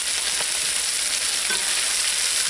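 Onions and peppers fry in a pan with a steady, loud, continuous sizzle that stays close throughout and carries no talk.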